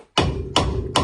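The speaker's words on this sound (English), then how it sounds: "I'm going to give them a hammer, and that way it'll hopefully shock the rust and they'll just come off" Three hammer blows strike rusted bolts on a Honda Integra Type R DC2, each a sharp, loud metallic hit with a short ringing tail, spaced about half a second apart.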